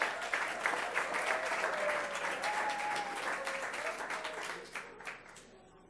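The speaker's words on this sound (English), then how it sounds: "Let's give them all a big round of applause." Audience applause for school award recipients at a county board meeting, a steady wash of many hands clapping that holds loud for several seconds, then thins and fades toward the end.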